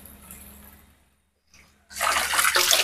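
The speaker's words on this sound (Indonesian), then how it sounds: "tadi tiba-tiba airnya nyala ya teman-teman" After a near-silent pause, a Sunsun JTP 12000/h submersible koi pond pump suddenly gushes water, loud and close, in a steady rushing splash.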